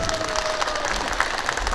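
A concert audience claps for a singer on stage, a dense continuous burst of applause filling the hall with a few scattered cheers and no clear speech.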